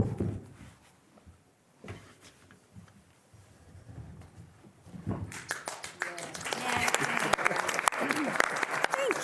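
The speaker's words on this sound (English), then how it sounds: "I love the clapping this time around." A room of county board retreat attendees breaks into loud, dense applause that starts abruptly partway through and holds steady to the end, after a stretch of quiet room noise with a few scattered voices and taps.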